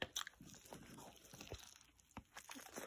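Someone bites into a double cheeseburger up close, with soft crunching, chewing and wet mouth sounds in irregular bursts, quiet and intimate.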